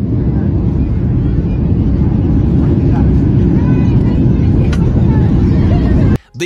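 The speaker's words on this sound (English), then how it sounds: "This plane suffering from turbulence on approach." A small plane on approach through turbulence, its cabin filled with a loud, steady engine and wind roar that holds constant throughout before cutting off abruptly near the end.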